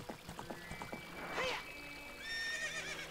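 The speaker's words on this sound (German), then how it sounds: "Und los, ein Pferd. Lauf!" In Zelda: Ocarina of Time, a horse gives a bright, loud whinny in the middle, with quick clip-clop hoofbeats at the start and a shrill neigh-like call near the end.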